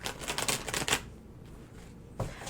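Tarot cards are shuffled in quick papery riffles for about a second, followed by a quiet pause and then one more soft card slap.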